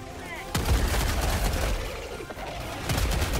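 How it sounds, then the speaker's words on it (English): Gunfire during a Helldivers 2 bug fight near extraction, dense and sustained with sharp bursts, loud and close, mixed with other battle noise and some voices. "Turn and fire, boys."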